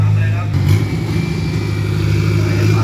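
A tuned race car engine, a 2500cc car of about 1500 kg, idles and burbles loudly and close at the Klong Ha race track, with a deep steady rumble and someone talking over it.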